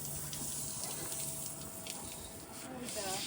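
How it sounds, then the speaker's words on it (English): Tap water running steadily for a dog's shower, a continuous close rush filling the whole moment with faint background voices beneath it. "Oh, Hida, do you want a Molly shower next?"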